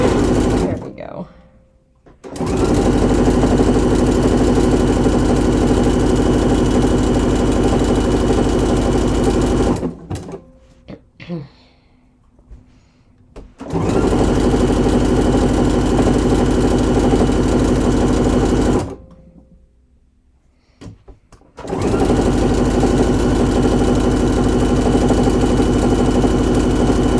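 A sewing machine runs loud and close, stitching a garment seam with a backstitch in three long steady runs separated by short pauses, with faint handling sounds in the gaps.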